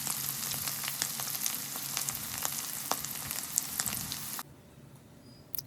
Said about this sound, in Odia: ଗୋଲ୍ଡେନ୍ ବ୍ରାଉନ୍ ହେବା ଯାଏଁ ଆମେ ଭାଜୁଥିବା ପନିରକୁ।